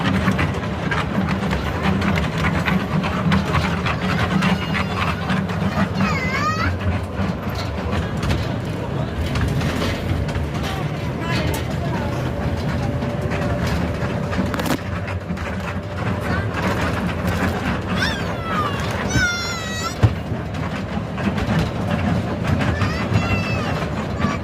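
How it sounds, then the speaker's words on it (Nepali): A passenger train on the Lumbini–Delhi route rounds a curve, a continuous rumbling roll with rhythmic clatter and occasional high wheel squeals, heard from on board amid background voices. "अब ट्रेन घुम्ने मोडमा छ है"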